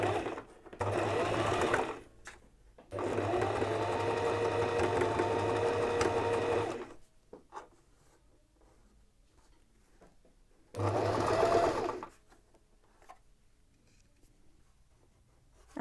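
A domestic sewing machine stitches a terry washcloth along a marked line, running in two long steady bursts of motor whir and needle chatter, stopping, then a shorter burst later; near and loud, with quiet pauses between.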